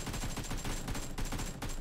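Steady automatic gunfire in PUBG Mobile, a loud, dense stream of rapid shots that runs unbroken throughout with no voices.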